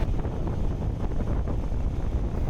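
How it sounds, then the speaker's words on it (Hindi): Strong wind at high altitude on Khardung La pass in Ladakh buffets the microphone with a heavy, low rumbling roar that stays loud and unbroken for the whole stretch. "इन तेज़ हवाओं के बीच"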